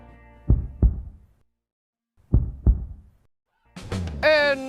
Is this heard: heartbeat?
yes